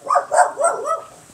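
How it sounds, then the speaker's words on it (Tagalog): Several dogs bark in a quick run of four or five close, fairly loud barks with no one speaking. "Maraming aso dito, no?"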